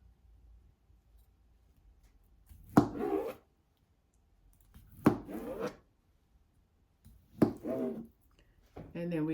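Boiled sweet potato sliced with a knife on a cutting board, three separate bursts of close chopping strokes spaced a couple of seconds apart, with quiet pauses between them.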